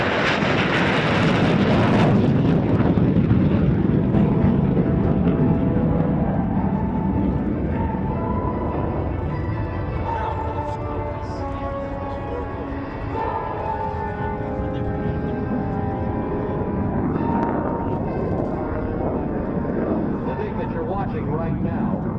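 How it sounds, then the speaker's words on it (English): A Vietnam-era MiG-17 jet roars off the runway with afterburner at the Rhode Island Air Show, a loud sustained rumbling blast that slowly recedes, with a commentator talking over it. "Watch and feel the afterburner of this Vietnam-era jet as Randy Ball lifts off"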